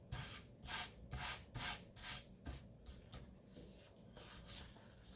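Glued napkin edges being rubbed down onto a paper envelope, a series of close, soft swishing strokes in a steady back-and-forth rhythm that fades slightly toward the end.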